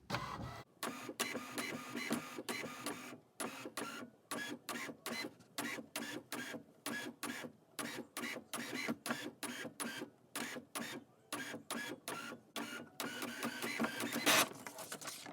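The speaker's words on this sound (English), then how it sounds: "It's just printing out." A home printer feeds and prints on matte photo paper, a long run of rapid, evenly spaced mechanical strokes as the print head shuttles back and forth, steady and close with brief pauses between passes.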